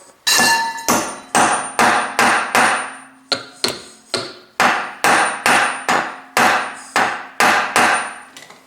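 Sharp metallic blows of a big hammer striking a socket on a wheel bolt ring out one after another, about twenty heavy strikes in a steady rhythm with short pauses, close and loud.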